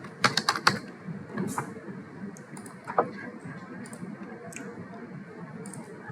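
Quick clusters of key clicks on a computer keyboard, with a burst of fast taps at the start, then sparse single presses under a low steady background hum.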